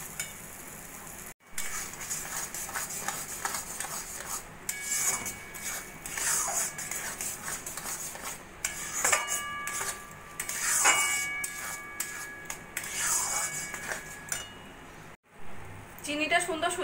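A spoon stirs sugar into semolina for caramel suji halwa in a pan, with repeated scraping and clinking strokes and a soft sizzle. A voice talks over the stirring throughout.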